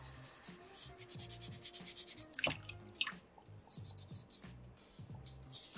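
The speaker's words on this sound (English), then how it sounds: "3 simple pieces of sandpaper here today, and we completely change this stone" Soapstone fish carving rubbed with sandpaper in quick repeated scratchy strokes, close and fairly quiet, a few sharper taps standing out mid-way, with a faint voice underneath.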